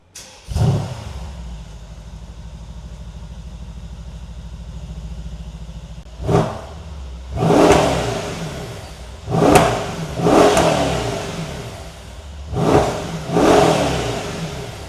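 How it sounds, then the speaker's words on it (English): A Mercedes-Benz SL63 V8 engine in Sport Plus mode starts with a bark, settles into a rumbling idle, then gets blipped in several sharp, loud revs spaced a second or two apart. "let's start the car up and listen how it sounds in Sport Plus mode"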